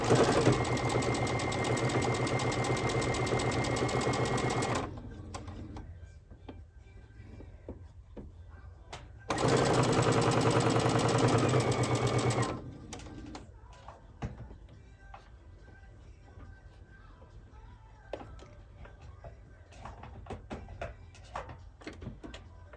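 A sewing machine backstitches fabric for a crib sheet, two loud steady whirring runs of rapid stitching separated by a quiet pause, then soft handling clicks and rustles.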